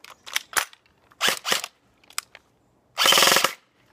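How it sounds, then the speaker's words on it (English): A G&G CombatMachine airsoft gun dry fires in close, loud mechanical bursts: several short clicking rattles, then one longer buzzing full-auto burst. "I don't recommend dry firing it like I just did either"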